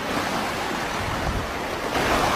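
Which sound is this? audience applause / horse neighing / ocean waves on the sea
ocean waves on the sea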